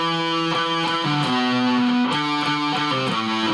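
A heavily distorted electric guitar plays a riff, repeating sustained, buzzing notes, loud and unbroken throughout.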